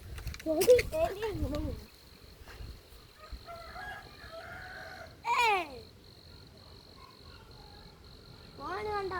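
A rooster crows loudly near the start, followed by two further crows, one mid-clip and one at the end, over a steady insect buzz and soft outdoor background in a rural yard.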